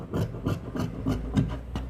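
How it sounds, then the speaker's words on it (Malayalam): Scissors cut through fabric for an umbrella frock in a quick, even rhythm of close crunching snips, about three per second, heard alone without speech. "ഇനി ഇതിൻ്റെ ഈ ഭാഗവും നമ്മൾ ചെറുതായിട്ട് ഇങ്ങനെയൊന്ന് ചരിച്ച് കട്ട് ചെയ്ത് കൊടുക്കുവേ."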